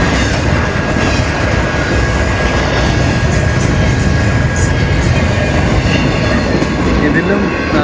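A long train rolls past near Yosemite National Park in California, a loud continuous rumble of wheels and wagons with steady rattling, while voices talk faintly underneath.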